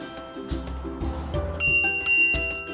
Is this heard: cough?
no